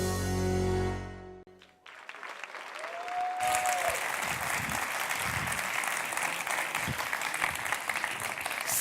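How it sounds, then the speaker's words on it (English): An award gala audience breaks into loud, sustained applause and cheering that fills the hall after a brief lull, with a short rising tone just before the clapping swells to full strength. "Lots of cheering going on."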